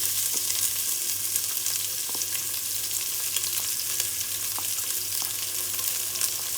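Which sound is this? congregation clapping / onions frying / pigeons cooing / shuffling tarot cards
onions frying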